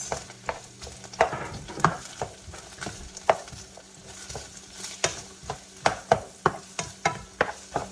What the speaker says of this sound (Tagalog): Tapos, igigisa ko yung sibuyas.